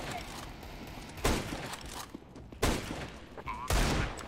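Three sharp, loud AWP sniper rifle shots in CS:GO, spaced about a second apart, over quiet background game noise.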